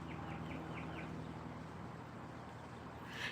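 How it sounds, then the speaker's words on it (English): Birds call during a casual Friday tea-time chat, a series of about five short chirps in quick succession early on, faint over a steady low hum of background noise. "hear the birds, you guys?"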